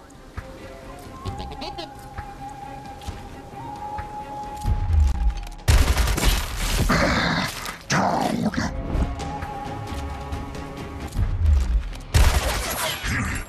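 Gunfire on overwatch in Gears Tactics, heard as loud bursts of rapid shots breaking in after a quieter stretch, repeated across the clip amid game effects.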